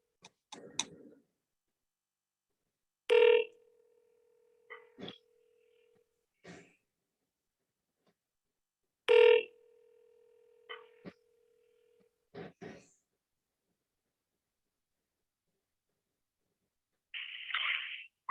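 Outgoing telephone call with two long ringback tones about six seconds apart, each a steady hum starting with a sharp onset, separated by faint clicks and handling ticks, with near silence between rings.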